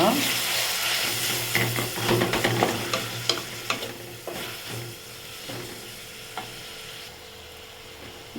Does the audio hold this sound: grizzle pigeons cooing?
no